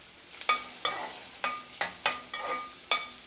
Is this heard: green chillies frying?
yes